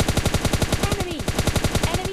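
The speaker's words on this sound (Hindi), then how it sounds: "गन शॉट की आवाज़ आती है" Rapid automatic gunfire from a weapon in PUBG Lite, with dense evenly spaced shots rattling close and loud through the whole burst.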